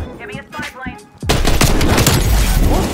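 Call of Duty Black Ops Cold War team deathmatch on the Moscow map: someone talks briefly, then a sudden loud, sustained burst of automatic gunfire fills the rest.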